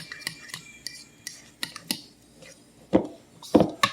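Shredded cheddar and Colby cheese mixture is stirred in a bowl, with scattered scraping and tapping strokes of a utensil, soft and close, some sharper knocks near the end, without talk.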